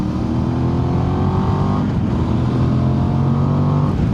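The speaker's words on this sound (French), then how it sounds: "Ah mais le son du moteur, il est vraiment top." A Voge DS800 X Rally motorcycle engine drones loud and close, holding a steady, rich tone with a slight rise and dip in pitch as it pulls, with no voices over it.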